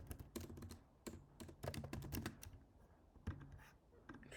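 Someone types a ChatGPT prompt for an HVAC website introduction on a computer keyboard, delivering brisk, uneven bursts of close clicking keystrokes with brief pauses between runs.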